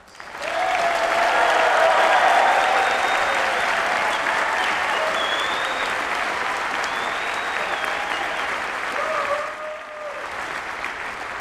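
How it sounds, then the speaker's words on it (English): A large audience at an economics department commencement claps continuously and loudly for graduates for about nine seconds, then the applause thins out and fades near the end, with some cheering mixed in. "please give a first round of applause to all of our graduates"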